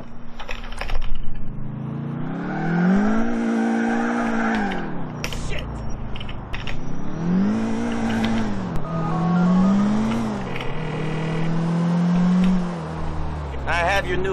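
A car driven in GTA IV, engine revving up and down in repeated swells with tire squeal, loud and close, while someone speaks over it.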